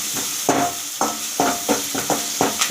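Mutton curry ingredients sautéed in a pan, with a series of sharp scraping and clattering strokes in an irregular rhythm, close and fairly loud, with no talk.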